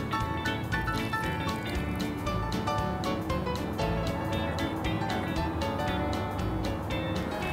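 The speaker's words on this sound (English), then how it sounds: "I put a squeeze on the snuffer, and then that creates a suction" A squeezed snuffer bottle sucks gravel and material out of a bedrock crack while gold prospecting, giving a steady wet slurping, gurgling stream with rapid dribbling clicks, close and continuous throughout.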